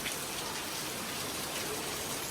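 Rain falls in a steady, even patter with a soft hiss of drops on surfaces, moderately loud and constant, with no voices over it.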